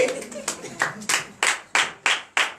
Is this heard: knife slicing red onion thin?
no